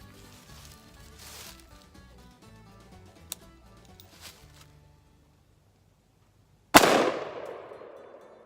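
An AR-15 rifle fired once at a shooting range, a single sharp loud crack with a decaying echo, following a stretch of quiet handling noises.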